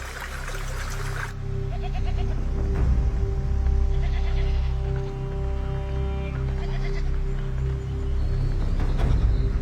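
Mountain goats bleat over a steady, loud background of rushing water and a low hum at a mineral spring in the Canadian wild, with bleats recurring across the whole stretch.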